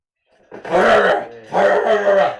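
A guard dog growls and barks in two loud, close bursts, each a rough, throaty snarl lasting under a second.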